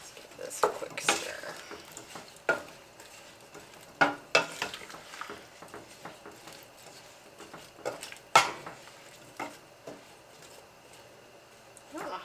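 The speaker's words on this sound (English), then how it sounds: "Let's give this a quick stir." Maple bourbon pear butter of chopped pears being stirred in a pot on the stove, with scattered sharp clinks and scrapes of a utensil against the pot at an irregular pace, close by with no talking.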